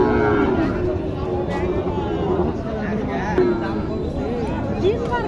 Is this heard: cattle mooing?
yes